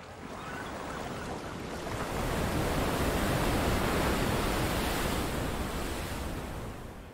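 Rough surf in False Bay off the South African coast, a loud, continuous roar of breaking waves and churning water that swells and slowly fades, with no voices.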